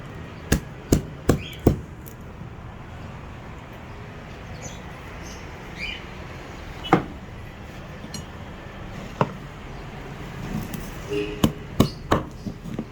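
Sharp knife chops through grilled pork on a board, a quick burst of four strikes, then scattered single chops, ending in another cluster of rapid strikes.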